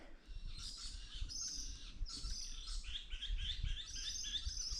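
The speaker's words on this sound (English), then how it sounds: "So many little bird noises," Many small birds, likely honeyeaters, chirp and tweet in trees overhead along a bushwalk circuit, a steady busy chorus of overlapping high calls close by with no talking.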